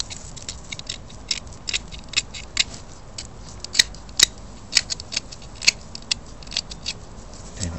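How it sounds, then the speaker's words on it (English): Plastic insulation is peeled and picked off an AA battery, heard as a quiet run of small, irregular close-up clicks and crinkly snips, a few sharper ones standing out, with no talking. "All I'm going to do is take off all the plastic insulation"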